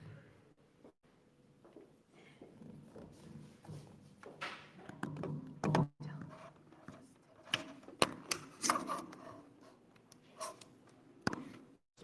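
Clattering keyboard and desk handling noise as a computer is set up, with scattered taps, thunks and shuffling at moderate level, occasional sharper knocks, and faint voices in the background.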